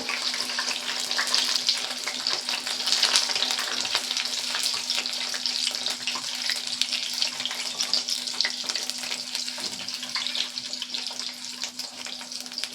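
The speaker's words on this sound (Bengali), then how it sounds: "এইভাবে প্রত্যেকটা বক ফুল কিন্তু আমি ভেজে নেব" Bok phool (agati flower) fritters frying in oil give a steady, dense crackling sizzle that holds close and even throughout, with a faint low hum beneath and no voices.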